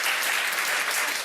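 An audience at a talk on imposter syndrome bursts into brief, dense applause, steady and loud for the whole moment with no voices over it.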